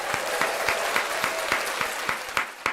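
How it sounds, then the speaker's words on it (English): Applause sound effect on a live talk show, with a crowd clapping at moderate level while sharp individual claps stand out in a regular, fairly quick rhythm. "Let me give you a round of applause"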